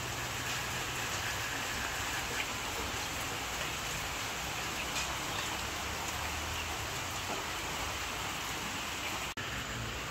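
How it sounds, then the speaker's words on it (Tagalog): Steady rain falls outside during a morning-long downpour, a dense, even hiss with a soft patter of drops running throughout with no break, moderately loud and close, with no talk over it. "At ngayon po ay naulan. Simula po kaninang umaga ay naulan na po."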